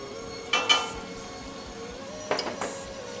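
Two brief clusters of metallic clinks, a saucepan knocking on a stove as butter goes in, against a quiet background hum.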